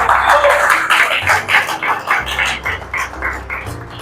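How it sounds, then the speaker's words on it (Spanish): Church congregation clapping in a steady, moderately loud wash of applause with a low background hum. "Denle un aplauso al Señor, por favor"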